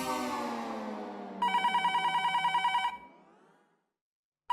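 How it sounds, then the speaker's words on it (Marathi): A telephone rings at night, a burst of bright electronic ringing pulses that follows a fading tonal sound and then stops, with a brief sharp sound at the very end. "फोन आला."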